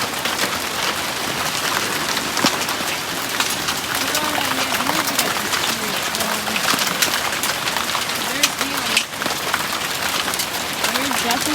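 Hail pelting down through a hailstorm, a steady loud dense patter of impacts filling the whole stretch without letup, with faint voices and bird calls now and then in the background.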